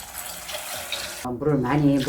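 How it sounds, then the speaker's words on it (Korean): Water from a tap pours into a bowl of soaking Korean red beans, a close gurgling fill that grows fuller and louder in the second half of the brief sound. "물을 많이 붓고 담가 놓을게요"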